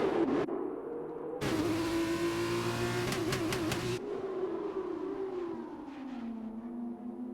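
A Formula 2 race car, the Prema entry, at the Bahrain circuit screams past, its high engine note sliding down in pitch. It is joined by a burst of loud, harsh revving from another car, then trails off.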